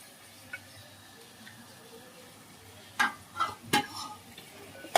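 Potatoes and cauliflower stirred in a pan, with a faint sizzle throughout and a few scraping clatters of the spoon against the pan toward the end.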